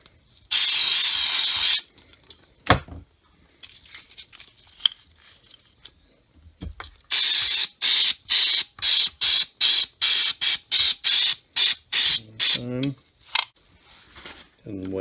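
Sharp bursts of aerosol cleaner spray hiss loudly into a 2005–2014 Mustang throttle body: one long blast, then a rapid series of short, evenly spaced spurts, close to the microphone.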